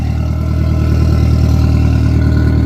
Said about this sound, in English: Bit of an exhaust leak